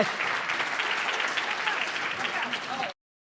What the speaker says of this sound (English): So keep applauding for these younger